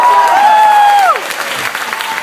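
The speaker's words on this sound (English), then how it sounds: "applause for Prashanth, ladies and gentlemen." A comedy-club crowd claps and cheers for a stand-up comic named Prashanth, loud close applause under a held sung or whooped vocal tone that fades after the first second.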